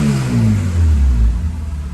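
A Honda Type R car engine idles loudly up close after tuning, a steady deep rumble with a slight settling wobble in pitch across a couple of seconds, no voices present.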